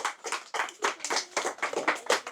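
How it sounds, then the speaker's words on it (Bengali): A group claps hands together in a steady rhythm, with about nine sharp, close bursts of clapping and short gaps between them. "সবাই হাতে তালি দেন, সবাই হাতে হাতে তালি দেন"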